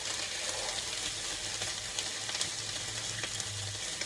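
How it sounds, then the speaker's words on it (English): Leftover brown rice and peas frying in a pan, a steady broadband sizzle with small crackles throughout, close and moderately loud. "So I'm just going to add my rice"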